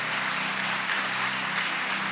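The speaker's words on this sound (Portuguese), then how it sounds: "Você pode aplaudir a Jesus?" A church congregation claps in a dense, steady burst of applause that stays even and fairly loud for its brief length.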